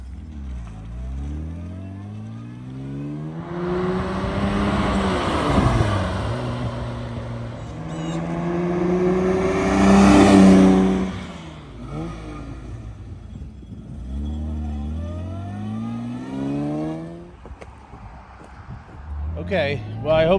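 A 1962 Jaguar E-Type 3.8-litre Series 1 roadster making repeated flybys, its engine swelling loudly as it approaches and fading away as it passes, several passes in a row with a voice talking between them.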